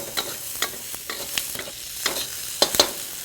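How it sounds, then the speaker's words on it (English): Green peppers sautéing in a pan for an Indian entree, with a steady sizzle under repeated stirring and scraping strokes, close and moderately loud, no talking. "Now we want to saute the green peppers for"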